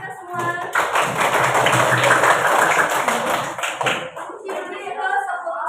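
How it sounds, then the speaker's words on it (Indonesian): A small group of teachers and participants clapping together in a classroom session, a few seconds of brisk mixed claps with voices talking over and after it. "Oke, tepuk tangan untuk kita semua."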